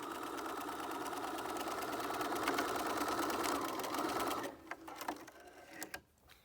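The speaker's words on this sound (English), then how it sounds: "we're going to do the straight stitch along the bottom below the zigzag" A sewing machine runs a straight stitch along the bottom of a fabric face mask, buzzing steadily for about four seconds before stopping, followed by a few light clicks and handling sounds.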